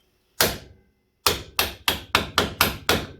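A hammer strikes a socket set against the splines of a Triumph Bonneville T140 primary drive held in a vice: one sharp metallic blow, a pause, then six quick, evenly spaced hits, close and ringing.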